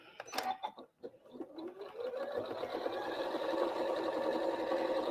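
Sewing machine stitching a long quarter-inch seam in quilt fabric, a few clicks and handling noises, then the motor ramps up into a steady rapid whir close by.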